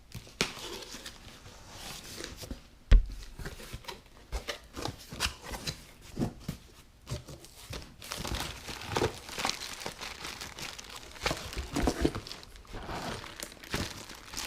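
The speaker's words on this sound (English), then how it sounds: "we're going to go ahead and get this box opened up" Cardboard box holding an air hose reel being opened: close, irregular crinkling, tearing and rustling of cardboard and packing, with scattered sharp crunches and one loud snap early on, no talking.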